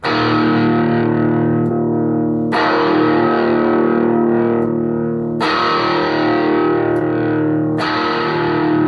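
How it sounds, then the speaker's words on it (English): Loud, heavily distorted electric guitar chords through a Blackstar ID:60 TVP amp, sustained and ringing, struck anew about every two to three seconds with no talking. "Now, just really quickly, I'll add some distortion."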